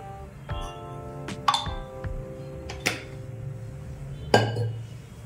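A kadhai set down on a lit gas stove: a few separate metallic clanks and ringing clinks of cookware over a low steady burner hum, with quiet handling between the knocks.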